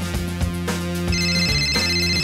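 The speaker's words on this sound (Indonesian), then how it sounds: "Ada panggilan telepon." An incoming call on a telephone in a children's cartoon, a melodic electronic ringtone that repeats in short bursts and sits loud and clear in the mix with no talking over it.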